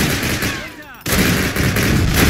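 Lee-Enfield rifle gunfire in the video game Call of Duty 1: a sharp, loud shot cracks out mid-clip, followed by continuous dense game noise and battle ambience, close and dominant.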